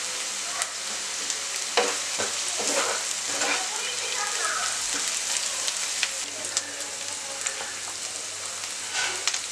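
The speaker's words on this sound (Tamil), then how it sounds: "எல்லாத்தையும் வந்து நல்லா வதக்கி விடுங்க." Onions sautéing with a steady, crackling sizzle in a pan for a chicken mushroom stir fry, with stirring scrapes and clatters breaking through the close, even frying noise.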